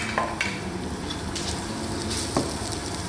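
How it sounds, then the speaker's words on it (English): Lamb and potato curry gets a quick stir in a kadai over steady oily sizzling. A couple of brief scrapes sound against the continuous frying hiss. "Give that a quick stir."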